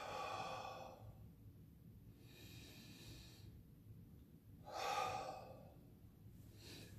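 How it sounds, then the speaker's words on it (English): Deep breaths drawn in through the nose and let out through the mouth during a beginner karate class stretch, a slow repeating rhythm of long airy exhales, close and fairly soft with no talking. "breathing deep through your nose"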